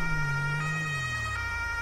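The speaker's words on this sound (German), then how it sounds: "Mach mal Sirene aus" An emergency vehicle siren in GTA role-play wails loud and steady with a sustained tone, while a lower engine hum slides downward beneath it.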